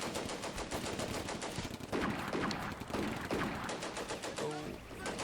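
Soldiers firing at Panzer Grenadiers in a wood during a World War II Combat Mission battle, a continuous crackle of rifle and machine-gun bursts, loud and dense, with a few heavier reports standing out.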